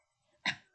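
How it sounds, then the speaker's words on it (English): A pet dog gives a single sharp bark at the front door as a family member heads out to fetch the mail, loud and close after a near-silent lead-in, tailing off quickly. "Will you not bark?"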